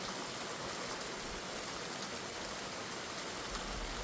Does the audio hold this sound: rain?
yes